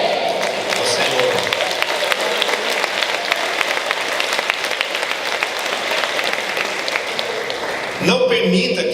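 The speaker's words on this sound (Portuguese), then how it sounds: "Dê uma aplauso ao Senhor" Church congregation applauding and clapping steadily throughout, a dense continuous wash of hands with voices mixed in, ending in a brief louder burst.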